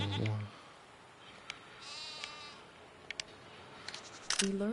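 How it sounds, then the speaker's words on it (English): A lone goat bleat opens the clip, followed by quiet ambience with a few faint clicks and another short bleat near the end. "Hello, little Billy Goats."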